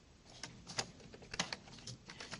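Typing on a computer keyboard while entering a task name in project management software: a quick run of light, close key clicks with an uneven rhythm and no talking.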